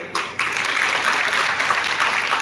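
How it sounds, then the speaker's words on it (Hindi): Loud applause breaks out from the crowd at an award event honoring a Pandwani folk singer. After a brief hesitant start, the clapping swells into a strong, steady roar. "एक बार जोरदार तालियां होना चाहिए।"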